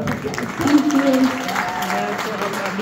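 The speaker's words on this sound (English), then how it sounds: "Please give them a big round of applause." An audience at a Diwali 2023 celebration claps briefly after a dance performance. A voice talks over the applause.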